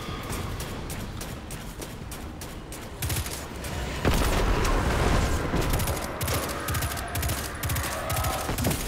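Rapid automatic weapon fire in the video game Destiny 2, dense fast bursts of shots with heavier booming impacts partway through, loud and continuous across the scene.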